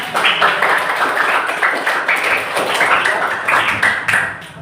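A school class claps after a group presentation: dense, steady applause from many hands in a room, fairly loud and continuous, with a few stronger bursts.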